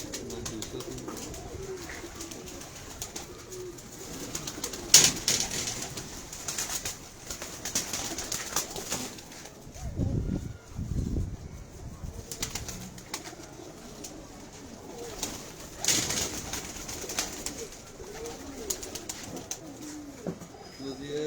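Low, soft pigeon cooing, a few throaty coos close by over a quiet outdoor background with occasional rustles and faint voices.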